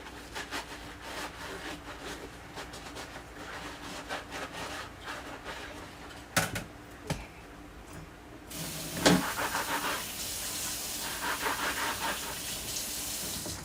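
Running tap water splashing over an item being washed, a steady close hiss with scattered scrubbing and clattering, growing louder and fuller partway through, with no talk.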